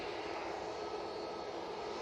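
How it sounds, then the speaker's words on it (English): A Ryanair Boeing 737 MAX 8 jet with all-blue winglets gives a brief, steady, moderately distant engine hum at Manchester Airport, heard alone. "There's that Ryanair. 737 MAX 8 with the all blue winglets."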